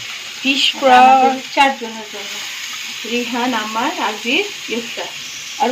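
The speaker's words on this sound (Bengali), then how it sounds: "এই যে এখন মাছ ফ্রাই করছে" Fish fries in a pan with a constant bubbling sizzle running underneath, while a person talks over it in bursts.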